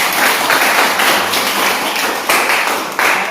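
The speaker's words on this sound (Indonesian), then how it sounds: "Oke, tepuk tangan." Students clapping in a classroom session, loud close hand claps in a steady continuous patter with a couple of sharper accents.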